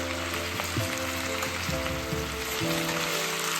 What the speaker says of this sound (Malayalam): നമുക്കിനി സബോള അത് ഇളക്കിക്കൊണ്ടിരിക്കുക കേട്ടോ.